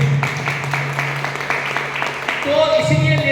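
An audience gives loud applause for an elderly woman, a run of rapid claps with speech over it, ending as voices take over.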